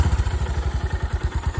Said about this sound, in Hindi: लेकिन सबसे पहले बाइक के जो साइलेंसर एग्जॉस्ट नोट है उसको सुनते हैं